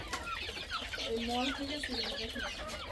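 Free-ranging desi chickens at a woman's small farm cluck softly and steadily, several birds murmuring close by in a low, continuous chatter.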